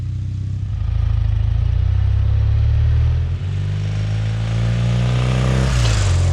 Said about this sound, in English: The 980cc engine is the main event, with its unflustered metronomic delivery feeling unstoppable.